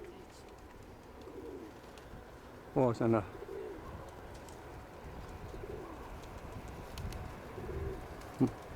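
A pigeon coos twice in quick succession, then once more later, fairly close, over faint background noise and some quiet talk.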